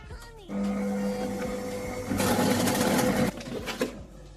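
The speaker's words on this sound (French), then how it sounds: "on va mixer 10 secondes, vitesse 6" An i-Cook'in kitchen robot blends a shrimp, mango and lemongrass curry at speed 6, its motor whirring up to a steady loud hum for several seconds, then growing harsher before cutting off.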